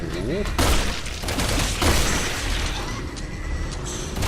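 Rapid gunfire bursts and heavy booms from a boss fight in Resident Evil 6, dense and loud throughout, with voices talking over the shooting.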